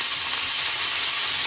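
Potatoes go into a hot pan of turmeric and garam masala for aloo matar, a loud steady sizzle and hiss of frying close by, with no talking.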